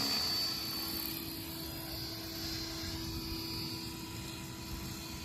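Steady whirring drone of small rotors as a drone flies an automatic figure eight nearby, a continuous buzzing hum with a faint high whine, no voices.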